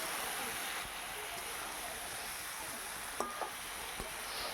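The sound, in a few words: sautéing fish heads with cauliflower and spices in a pan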